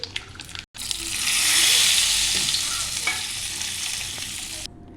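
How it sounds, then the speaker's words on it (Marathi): Hot tempering of mustard seeds and red chilli poured into garlicky dal with spinach in a kadhai, bursting into a loud, close sizzle that swells and then slowly settles over a few seconds. "कढईमध्ये आपण तडका देऊन घेऊ"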